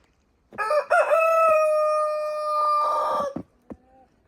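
A rooster crows loudly nearby in a snowy garden, one long drawn-out call, with brief clucks from hens before and after.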